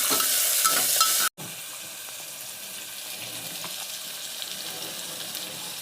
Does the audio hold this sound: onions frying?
yes